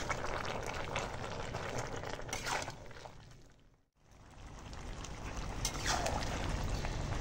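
A pot of vegetables with greens boiling on the stove gives a continuous bubbling, rushing hiss, briefly dipping to near silence midway before the boil resumes, and no one speaks.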